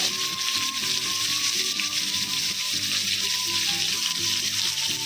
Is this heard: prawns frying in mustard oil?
yes